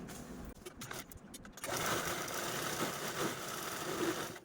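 A sewing machine stitches the base of a fabric shoe organizer sewn from old clothes, first in short stuttering bursts and then in a steady continuous run, close and moderately quiet.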